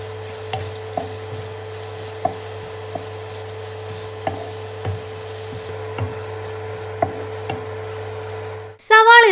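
Sliced onions and curry leaves sauté in hot coconut oil with cumin, cloves, cinnamon and peppercorns, a steady low sizzle carrying periodic soft scrapes and taps of the spoon against the pan for chicken stew.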